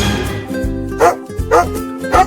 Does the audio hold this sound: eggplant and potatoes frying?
no